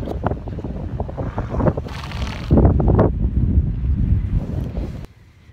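Strong gusty wind buffeting the microphone in uneven roaring surges, loud and close, before cutting off to near quiet at the end.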